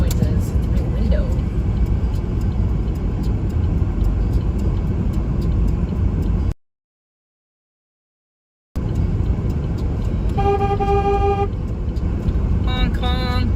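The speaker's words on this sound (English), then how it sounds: "Honk honk." Car horns honking during a slow roll cruise of vehicles through Saskatoon: steady road and cabin rumble with talking, a gap of silence, then repeated horn toots and short honks close by.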